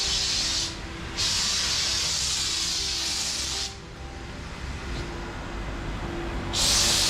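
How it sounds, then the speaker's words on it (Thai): A foam sprayer coats an Isuzu MU-X with car wash foam, producing a loud, steady close hiss with a couple of brief dips where the spray pauses. No one talks. "นี่เราใช้เครื่องฉีดโฟมอย่างดีครับเดี๋ยวพี่ดูนะ"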